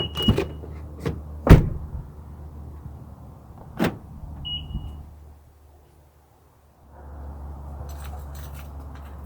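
A 2018 Honda Pilot EX-L Elite unlocks with its wireless key fob, giving a few sharp clicks and a short beep up close, then a quiet pause before a low vehicle hum returns.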